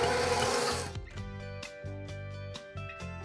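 An electric mixer whipping softened butter and cream cheese, first a loud whirring burst, then a steady motor hum with rhythmic beater thumps and knocks against the bowl.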